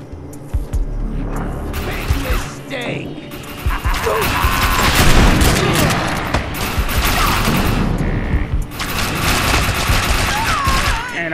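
Shotgun blasts and heavy gunfire crash through a hectic video game battle, dense and loud with booms and mechanical clatter, while a player talks over the action.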